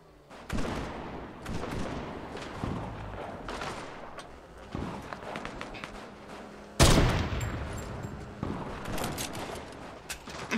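Repeated gunfire in Fortnite aimed at a player's built base, bursts of sharp shots and volleys spread across the span, with a very loud blast partway through and scattered shots continuing after.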